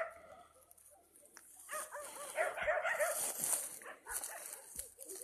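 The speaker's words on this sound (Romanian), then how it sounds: "să goniți acești câini" Several dogs near a collapsed grave in a cemetery bark and whimper in a run of repeated yips and whines, faint to moderate, building in the middle and trailing off.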